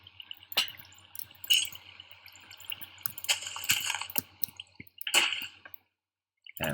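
Video-game block sounds of water being placed come as irregular splashy, squishy bursts and drips, some sharp and bright, over a low steady hum. A brief silence falls near the end before one more splash.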